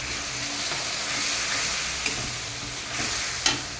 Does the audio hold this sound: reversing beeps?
no